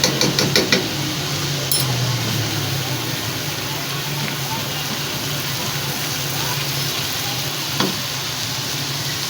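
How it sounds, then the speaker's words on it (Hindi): Ginger garlic paste with turmeric and salt fries in a pan, a steady soft sizzle with a few scraping stirs near the start, moderately quiet throughout. "इसको भी भून लेंगे। और साथ ही शामिल करेंगे लहसुन अदरक का पेस्ट।"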